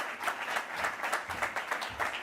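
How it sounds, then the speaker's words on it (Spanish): Steady applause from a crowd, a dense patter of many hands clapping continuously at moderate volume. "Un fuerte aplauso."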